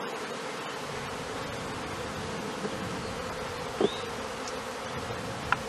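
A dense, steady hum of many buzzing honeybees at a hive, close and continuous, with a few sharp clicks and knocks near the end.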